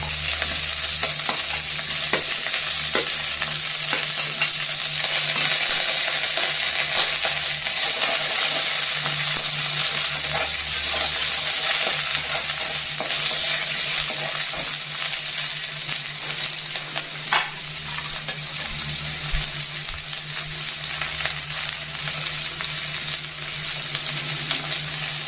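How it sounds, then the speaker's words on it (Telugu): Chopped onion and green chilies fry with ginger in hot oil, giving a steady, close sizzle that runs the whole time, with occasional stirring scrapes and light clinks and no talk. "అల్లం కొంచెం వేగిన తర్వాత ఇదిగోండి ఉల్లిపాయ ముక్కలు, పచ్చిమిరపకాయలు వేసేసి వేగించాలి."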